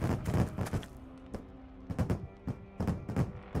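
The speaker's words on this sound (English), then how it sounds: "Some fireworks." Video game fireworks in The Book of Unwritten Tales: a burst of sharp, booming pops fires in irregular clusters, with several loud cracks spaced across the stretch and a low rumbling tail between them.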